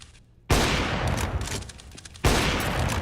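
Counter-Strike match audio of AWP sniper fire, two loud, close, sharp blasts with long ringing tails, the second arriving about two seconds after the first, with no talk.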